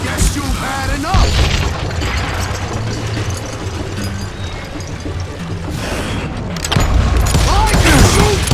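Gunshots ring out in a dramatized shootout, a burst of bangs and booms mixed with shouting voices and effects, loud and busy throughout.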